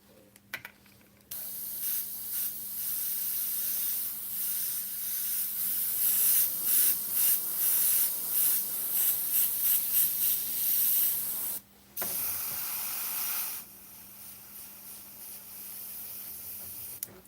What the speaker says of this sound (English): I can always add black on top of it and spray it lighter